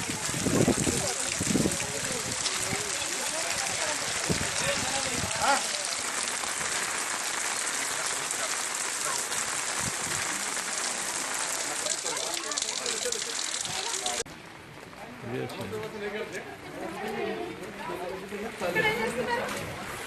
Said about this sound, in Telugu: జైనూర్ మండల కేంద్రంలో ఎడతెరిపి లేకుండా వర్షం కురుస్తోంది